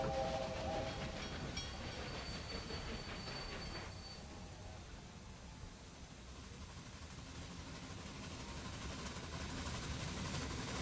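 A train passes along a busy stretch of track in the Railway Empire railway video game, a steady rumbling wash of wheels on rail with a faint squeal early on, constant and moderately loud.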